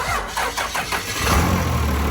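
An engine cranks, then fires and catches after a FASS fuel pump upgrade. It settles into a loud, steady running note close by.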